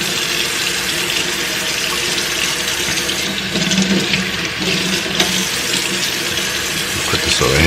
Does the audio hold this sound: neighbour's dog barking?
no